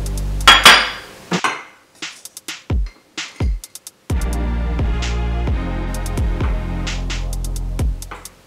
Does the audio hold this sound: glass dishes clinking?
yes